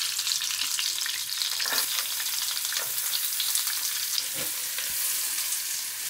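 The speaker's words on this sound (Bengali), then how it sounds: "পেঁয়াজটার কালারটা পরিবর্তন হওয়া পর্যন্ত এটাকে আমরা একটু ভেজে নিব।" Five cubed onions fry in a pan, a continuous bright crackling sizzle heard close, with a few scraping stirs scattered through it and no voices.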